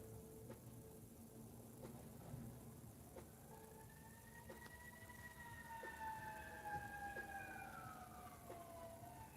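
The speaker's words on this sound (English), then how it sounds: "And now I hear a fire truck siren." A distant fire truck siren wails in long rising and falling sweeps over low traffic rumble, faint but continuous.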